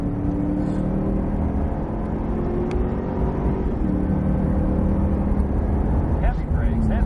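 A Cadillac CTS-V at full throttle on Palm Beach International Speedway, its engine a steady, loud drone heard from inside the car with the pitch rising as it accelerates, under an instructor's coaching voice.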